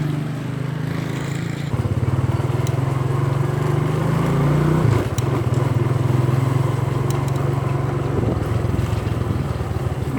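Motorcycle engine running steadily while riding along a rural road, a continuous low drone with a brief dip around the middle, loud and close throughout.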